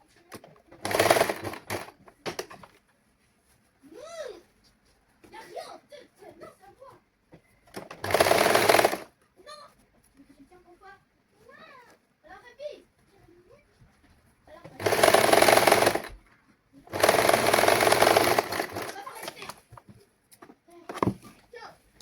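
Sewing machine stitching saree blouse fabric in bursts of loud, steady whirring, four runs of a second or more, with a person speaking between the bursts.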